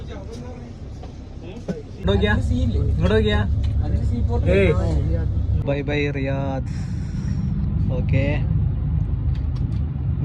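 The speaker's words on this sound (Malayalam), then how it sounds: "കറക്റ്റ് ടൈമിന് ബസ് എടുത്തു." An intercity bus setting off from Riyadh toward Jeddah starts up after a quiet moment, its engine settling into a low, steady rumble that continues beneath several voices talking close by.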